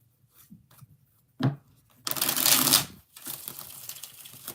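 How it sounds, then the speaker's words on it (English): Tarot cards are riffled and shuffled up close: a single sharp snap, then a dense fluttering riffle of about a second, followed by softer card-sliding rustles. "One more shuffle."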